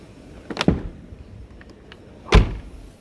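The door of a Pilote P696D Expression motorhome is shut, giving two sharp thuds, the first a quick double knock and the second a heavier latching slam, close up in an otherwise quiet interior.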